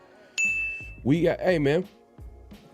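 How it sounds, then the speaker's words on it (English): A bright notification ding rings out and sustains briefly, followed by people speaking over a low background. "hit that notification bell"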